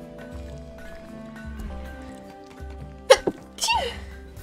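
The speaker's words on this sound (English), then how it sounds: "I was sneezing." A person sneezes once loudly and abruptly, followed by a short second burst, standing out against a quiet background of game music.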